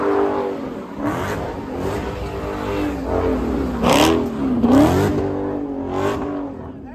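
A car at an Atlanta street takeover revs hard and spins donuts, with repeated engine surges rising and falling in pitch, tires squealing and a crowd murmuring nearby.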